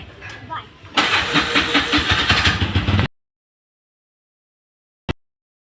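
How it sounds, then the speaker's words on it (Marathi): A small auto-rickshaw engine sputters to life and runs loudly and roughly for about two seconds, then abruptly goes quiet; a single sharp click follows later. "आद्विक, चला पटापट खाली रिक्षा आली असेल."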